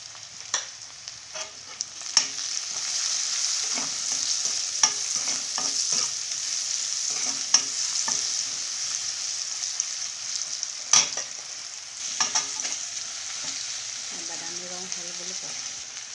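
Onions frying in oil for an Assamese mutton curry, a steady close sizzle running throughout with intermittent scraping stirs of a spatula and a faint voice near the end.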